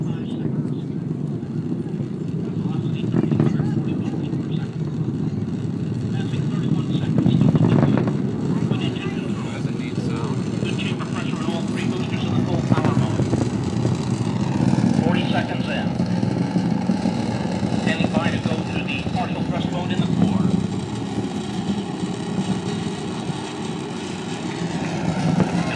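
A deep, sustained rumble from an Orion rocket launch heard about 8 miles away, a distant low roar with wind buffeting the microphone, while people talk over it throughout.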